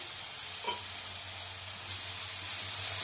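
Fresh coriander cooking in oil with turmeric, giving a dense, even hiss that stays constant and close, with a low steady hum beneath and almost no stirring strokes.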